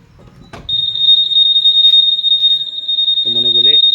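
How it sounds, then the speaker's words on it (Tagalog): A Honda ADV160 scooter's smart key alarm sounds as a loud, steady high-pitched electronic tone, near and continuous for several seconds, after a brief knock, with a voice speaking over it toward the end. "Try natin ang activate alarm."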